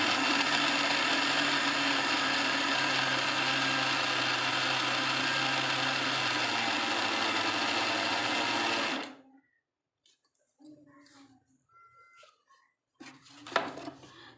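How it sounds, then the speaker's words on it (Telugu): A mixer grinder whirs loudly and steadily for about nine seconds, then cuts off, leaving quiet with brief scraping and clattering sounds. "మిక్సీకి వేసుకుందాం."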